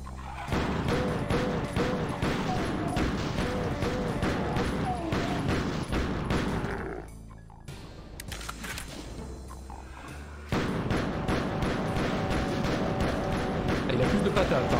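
Pistol fire in the shooter game Doom II: a dense, continuous barrage of loud, rapid gunshots with a brief quieter lull partway through before the shooting resumes at full intensity.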